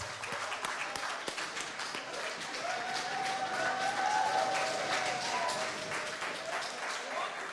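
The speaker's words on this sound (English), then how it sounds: "welcome her into our space again right now with a big round of applause" Audience applause at a cultural entrepreneurship conference session, a steady wash of many hands clapping that swells slightly in the middle, with cheering voices rising over it.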